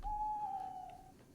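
An owl hoots in the Aztec-themed video game Dawn of the Mexica, a single soft, sustained whistling hoot that fades out, faint against a quiet game background.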